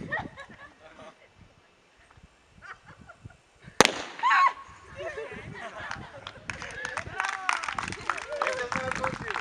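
A shot fired by historical artillery reenactors using percussion caps gives a single sharp, loud report, with Czech voices talking before and after it and outdoor crowd noise in the background.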